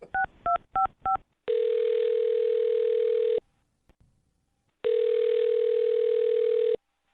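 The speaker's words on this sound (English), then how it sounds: "I'm going to dial his phone number right now" A quick run of touch-tone dialing beeps, followed by two long ringback tones separated by a short silence, clear and close.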